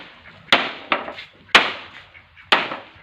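Firewood being chopped outside a rural village house in Northeast India, three sharp, loud axe strikes on wood spaced about a second apart, each with a short ringing decay.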